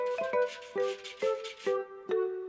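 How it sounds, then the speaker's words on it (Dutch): Cartoon scratching at a door: about six short rubbing scrapes in an uneven rhythm, each a brief bright burst over a sustained musical tone, close and clear with no talking. "Ineens hoort ze gekrap aan de deur."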